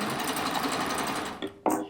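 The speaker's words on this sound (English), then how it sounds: "Now with this machine, we can just chain off just like a normal sewing machine." An industrial sewing machine stitching rag quilt fabric and chaining off runs as a steady, loud mechanical whir, then stops abruptly, followed by a couple of short clicks and a brief burst of motor.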